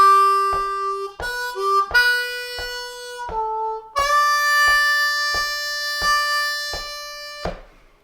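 A diatonic harmonica played in second position works through the second phrase of Amazing Grace: sustained draw and blow notes with bends, closely miked, clear and solo, with small breath attacks between notes.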